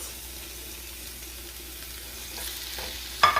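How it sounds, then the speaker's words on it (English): Vegetables including habanero pepper sauté in a pan with a soft, steady sizzle, followed by a brief clatter of stirring near the end. "I'm going to just saute them together."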